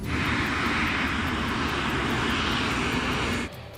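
An airliner on LAPA flight 3142 taxis toward runway 13 at Buenos Aires, a loud, steady engine roar with a broad whine that continues unbroken, then drops abruptly near the end, with no speech.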